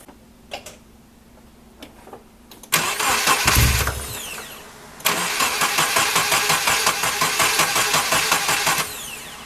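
A Volvo 240 that struggles to idle is cranked over with a whirring starter and catches after a few seconds. Its engine then runs with a rough, pulsing rhythm, close and loud, after a few quiet clicks at the start.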